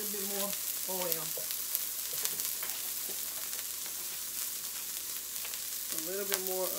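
Onion and other vegetables sizzling in hot vegetable oil in a pan for shrimp fried rice, a steady close frying hiss with stirring clatter and short bursts of talk over it.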